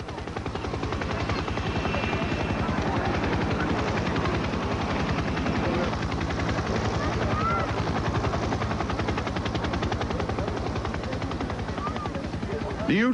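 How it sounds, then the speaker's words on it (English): Engine of a large radio-controlled scale model of the Polikarpov U-2 biplane, a loud steady rapid buzzing drone that runs unbroken for the whole stretch at an air show display. "Among the displays is a large radio-controlled scale model aircraft."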